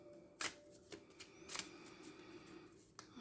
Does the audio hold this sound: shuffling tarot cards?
yes